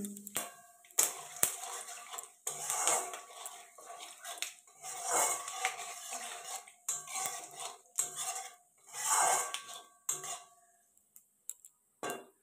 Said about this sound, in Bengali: নিয়ে ওই তেলের মধ্যে এখন দিয়ে দেবো শুকনো লঙ্কা, গোটা জিরে, দারচিনি, এলাচ, লবঙ্গ।